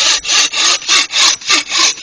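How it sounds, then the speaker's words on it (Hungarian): A handsaw cuts through wood in a steady rhythm of about seven loud, rasping back-and-forth strokes, close and alone. "ez az ember valójában tud fűrészelni"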